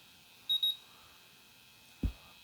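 A firefighter's portable gas detector gives a brief pair of high electronic alarm chirps, followed by a single low thump, against a quiet background.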